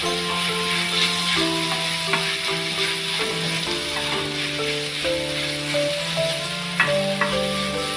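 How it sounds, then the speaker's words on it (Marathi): Onion, green chilli, garlic and coriander sautéing in a pan for a traditional onion-chilli thecha, giving a continuous loud sizzle with stirring rattles over a sustained hum. "आता आपण मिरची, लसूण, कोथिंबीरचा ठेचा याच्यामध्ये टाकणार आहे. थोडं परतून घेऊया"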